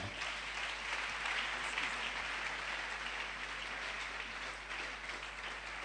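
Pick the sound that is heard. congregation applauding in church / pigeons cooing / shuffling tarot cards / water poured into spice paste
congregation applauding in church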